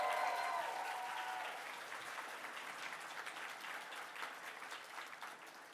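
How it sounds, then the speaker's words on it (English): Audience applause at a convention mainstage show, steady sustained clapping from a crowd heard at moderate distance, with a faint whistle or tone over the first second and a gradual slight fade. "Let's give her another round of applause, please"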